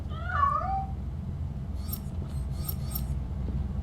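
A cat in RoboCop Rogue City gives a short, clear meow near the start, followed by soft scattered rustles and jingles over a low ambient hum.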